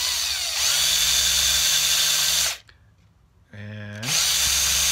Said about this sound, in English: And then I go reverse the backwards direction. So I'm spinning backwards.